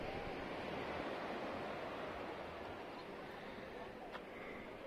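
Black Sea waves at Gagra, Abkhazia, a faint, steady rushing wash of surf with soft wind noise, continuous and distant-sounding without distinct individual breakers.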